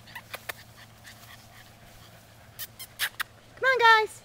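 Bullmastiff puppies play in a yard, giving a few short yips early on and ending in a louder, drawn-out whimper, while a woman calls to them in a soft, coaxing voice.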